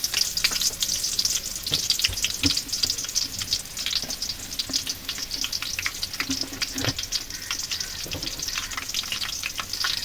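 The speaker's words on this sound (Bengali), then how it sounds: "এবার আমি এখানে আরও মাঝারি সাইজের একটা পেঁয়াজ দিয়ে দেবো" A medium-sized onion fries in a hot pan, giving a steady, close hiss of sizzling oil broken by faint clinks and scrapes of stirring; no one speaks.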